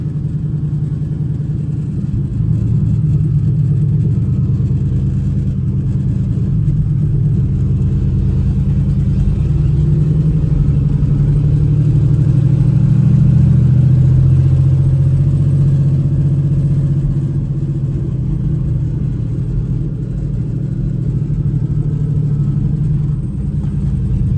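A 2008 Chevy Express van's engine rumbles continuously and loudly while driving around a block, a low, steady drone that swells slightly mid-drive with no talking.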